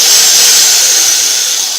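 An angle grinder running in a workshop, cutting metal for a small autonomous lawnmower frame, gives a loud, steady high-pitched whine that holds without a break.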